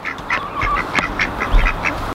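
Two male ducks quacking in a farmyard among chickens, a quick run of loud, nasal quacks close by over about two seconds, with no talking.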